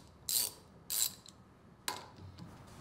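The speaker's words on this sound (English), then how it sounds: "Remove all the upper housing bolts." Three short ratcheting bursts as a wrench loosens the upper housing bolts on a Kimray pressure-reducing regulator, with quiet pauses in between, close and fairly soft.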